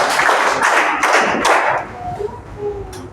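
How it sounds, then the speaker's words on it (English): A classroom group claps together for a presenter, a burst of dense overlapping applause in the first two seconds that then thins out, with faint voices and room noise trailing after. "Please give 5 claps to Mr."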